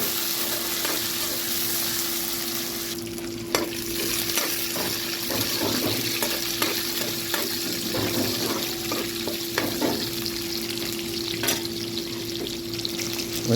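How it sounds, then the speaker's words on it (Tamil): Onions with garlic and curry leaves sauté in a pan for fish curry, giving a steady loud sizzle with occasional stirring scrapes and clatters throughout, no talking. "நல்லா வதங்கட்டும்."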